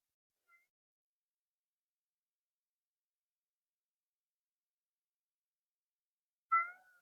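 A cat meowing outdoors: a faint, tiny sound near the start, then one clear, close meow at the end after long silence.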